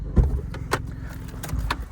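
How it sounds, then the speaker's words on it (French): Trunk of a Daihatsu Copen convertible being opened, a low mechanical thump followed by soft clicks and rattles of the lid, close and moderately loud with no talk. "on ouvre le coffre"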